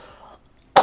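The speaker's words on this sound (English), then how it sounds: "Sorry, I'm coughing." A single sharp cough bursts out near the end after a faint, quiet stretch.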